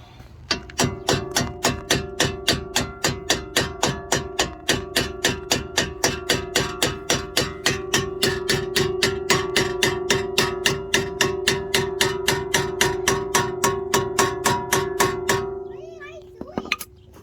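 Hammer striking a bolt on Brembo brakes of a Maserati, a long run of evenly spaced sharp metallic blows, loud and close, about three per second before stopping.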